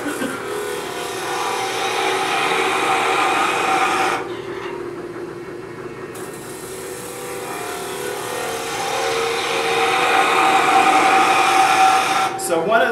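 A skew chisel cuts wood on a lathe while turning candlesticks, giving a continuous broadband hiss and whir that drops out briefly midway, loud and close.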